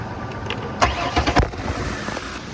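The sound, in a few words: car engine cranking and starting after new coil pack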